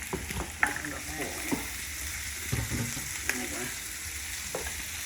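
Sausage browns in a pan as it is broken up, with a steady, close sizzle and sharp scrapes and clicks from stirring, and no voices.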